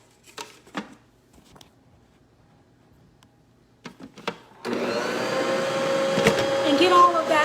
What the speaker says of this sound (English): Now, I am going to turn on my mixer.